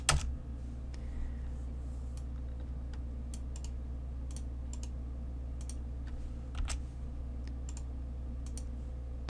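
Scattered keystrokes tap on a computer keyboard, close by and intermittent, with irregular gaps between clicks over a steady low electrical hum.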